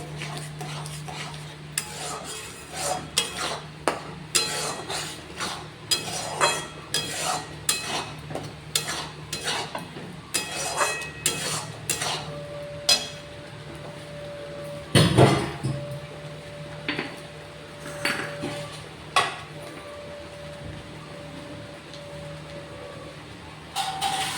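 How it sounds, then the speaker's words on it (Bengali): Chhena, fresh Indian cheese curds, being stirred nonstop in a pan, giving a busy run of scraping and knocking strokes from a utensil against the metal with a low steady hum underneath. "অবিরত ছানাটাকে নেড়ে নেড়ে আরও মিহি করে ফেলতে হবে"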